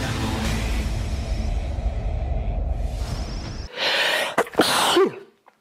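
A single loud sneeze bursts out close up after a stretch of rumbling noise, with a sharp explosive release and a short trailing breath.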